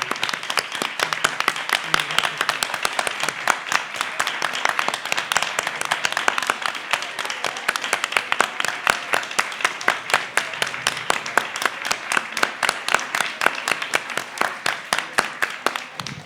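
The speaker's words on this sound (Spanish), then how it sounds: "Esos son los aplausos que el doctor Hugo López-Gatell se ha ganado a pulso" An audience applauds a guest, Dr. Hugo López-Gatell, at a panel discussion with journalists: dense, steady clapping that continues without a break for about sixteen seconds, with a faint voice briefly audible underneath.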